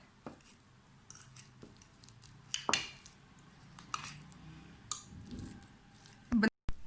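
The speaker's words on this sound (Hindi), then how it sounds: "इसको स्पून के साथ अच्छी तरह मैश कर लेना है" Ripe peeled banana mashed with a spoon, a soft wet squish under scattered clicks of metal against a bowl, faint and close, with a few sharper taps and some speech nearby.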